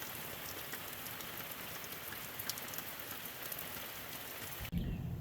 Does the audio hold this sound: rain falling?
yes